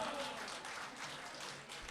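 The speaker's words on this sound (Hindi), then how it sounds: "तालियों से इस्तकबाल कीजिए" Audience applause at a Bihar Anjuman mushaira, a steady wash of many hands clapping that holds for about two seconds at moderate loudness, with no speech over it.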